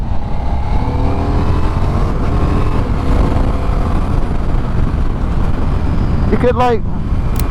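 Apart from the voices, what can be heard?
Ducati XDiavel V4 motorcycle engine running on two cylinders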